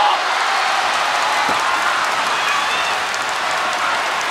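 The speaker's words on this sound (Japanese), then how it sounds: "ものすごい大歓声。" A loud, roaring arena crowd cheers and applauds during a women's tag team title wrestling match, a thick continuous wall of voices and clapping that holds steady throughout.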